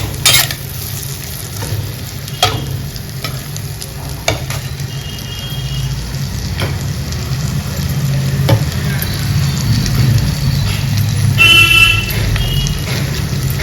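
Onions fry loudly in a pan for a fish curry while a flat, pointed ladle stirs them, producing a dense, continuous sizzle with periodic scraping strokes, close and without speech.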